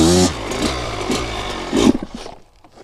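A Kawasaki KX100 dirt bike engine buzzes loudly during a circle wheelie, pulsing with a few throttle surges before sputtering and dying away into near quiet.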